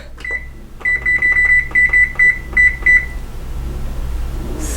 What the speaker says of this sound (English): And I will set my timer.